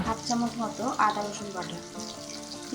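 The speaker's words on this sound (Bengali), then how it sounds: "পেঁয়াজ আর টমেটোটা দিয়ে একসঙ্গে বেশ ভালো করে ভেজে নিয়েছি" Onion and tomato frying together in a pan for a bottle gourd and prawn curry, a soft steady sizzle close by with a voice talking over it throughout.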